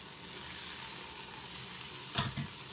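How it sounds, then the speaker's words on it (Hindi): Rugda mushroom curry with coriander frying in a pan, a soft steady sizzle throughout with a brief louder clatter of stirring near the end. "इसको थोड़ा सा धनिया ऐड करके और फिर इसको फ्राई करेंगे"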